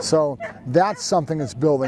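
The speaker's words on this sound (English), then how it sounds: "If you hear him in the background now, he's barking right now." A puppy barking from his kennel at a field in the morning, sharp yips and whining barks repeating in quick bursts close by, mixed with someone talking.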